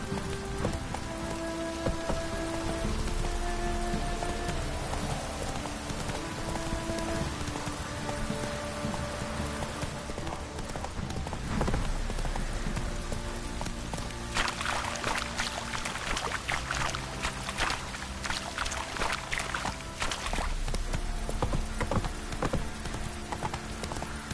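Horse hooves clip-clop steadily in The Witcher video game, a continuous trotting rhythm mixed with pattering rain and a soft musical backdrop throughout.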